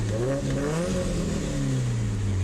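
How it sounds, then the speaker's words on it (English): A turbocharged car with a rotated turbo kit revs hard and steady while accelerating, its deep exhaust drone climbing and holding close by with no talk over it. "Let's hear that exhaust."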